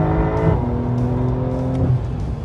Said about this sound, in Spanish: Qué rápido puedes abrir gas.